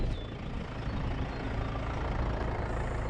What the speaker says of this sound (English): I love this diesel engine sound.